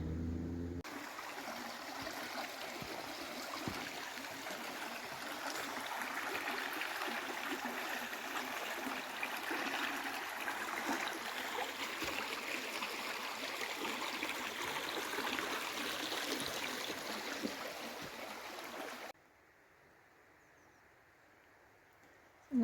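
A river flows beside a walking trail on the Pennine Way between Alston and Greenhead, a steady, soft rushing of water that holds evenly throughout, quiet and continuous, before cutting to near silence at the end.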